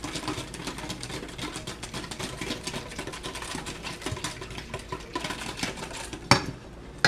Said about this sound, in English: we're going to get a wire whisk. I'm going to mix all this up so it's nicely mixy